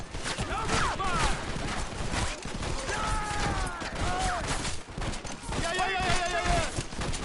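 Rapid gunfire crackles through a Red Dead Redemption video game shootout, bursts of shots layered with shouting voices and clattering action that stays dense and loud throughout.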